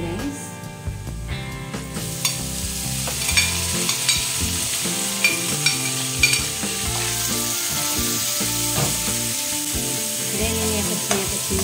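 Minced chicken sizzles steadily in a hot pan with browned onion and garlic, while a utensil scrapes and taps against the pan in irregular strokes close by.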